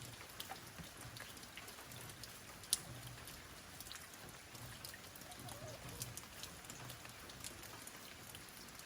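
Light, steady rain patters on surfaces nearby, with occasional heavier drips standing out against the soft, constant hiss.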